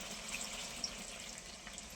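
Water pours into a pan while chili chicken cooks, a steady faint splashing rush lasting the whole moment with no break.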